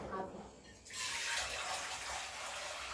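Tomatoes are washed under running water for a tomato and green chili chutney; after a brief quiet moment the tap gushes on and keeps up a steady splashing flow close by.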